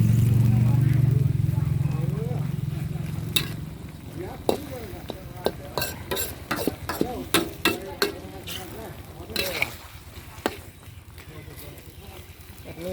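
Bottle gourd and egg stir-frying in a pan, with a steady sizzle at the start and then repeated scraping and clinking of a spatula in a loose rhythm, moderately close.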